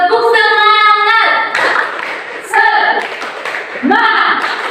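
Classroom students chanting and clapping the rhythmic "tepuk semangat" call, close and loud: bursts of voices with quick hand claps, repeated in three sections.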